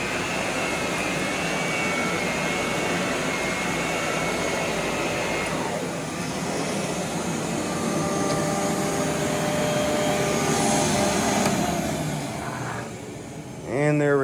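Rainbow SE vacuum cleaner running with a loud, steady whine and a rough, rattling top, the tone shifting slightly midway before cutting off near the end.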